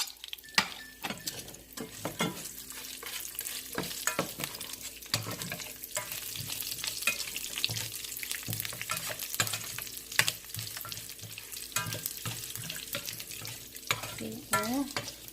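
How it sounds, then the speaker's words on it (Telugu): Garlic and dried red chilies frying in hot oil for coconut chutney, crackling and sizzling continuously while a spatula scrapes and clinks against the pan. "కదా వెల్లుల్లిపాయలు వేసుకోవాలి, ఎండుమిర్చి."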